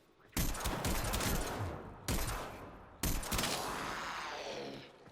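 Staticor weapon firing in the video game Warframe: loud, booming energy blasts, with one at the start and two more at about two and three seconds, each trailing off in a long rumbling decay.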